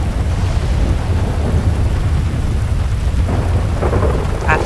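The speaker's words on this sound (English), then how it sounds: "what's up with all this rain?" Steady rain and low rumbling thunder from a GTA 5 roleplay session in a trucking convoy, a continuous heavy wash with deep rolling rumble and no speech.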